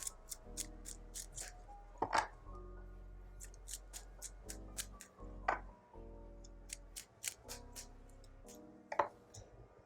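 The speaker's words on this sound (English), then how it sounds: "I'll just do 3 shuffles to get like an overall energy." Tarot cards are shuffled three times, giving a run of crisp, close ticking snaps and soft riffles with a few louder clacks over a low, steady background hum.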